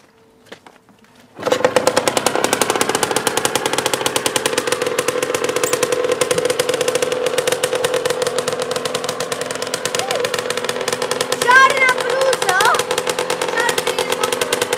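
A used French car with accident damage, priced at 2200 zł, cranks and fires up after a quiet moment. Its engine settles into a loud, rattling idle with a brief rev near the end, while people talk nearby.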